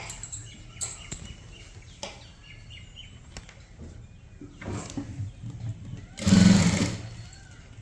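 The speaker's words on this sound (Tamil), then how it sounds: "அதுக்கு மேலே ஒரு தையல் போடணும்" A sewing machine stitching a blouse lining, short bursts of stitching with a longer, louder run near the end, separated by quiet pauses and light handling noises.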